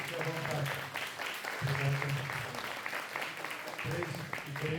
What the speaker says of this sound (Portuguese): Podem aplaudir, podem ficar